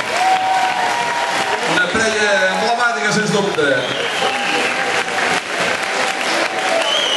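Loud crowd applause at an RCD Espanyol supporters' club gathering in Cassà, sustained dense clapping with someone speaking over it through a microphone.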